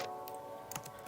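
Keystrokes on a computer keyboard while a command is entered in a terminal, a brief cluster of light clicks near the end of a quiet stretch with steady background hum.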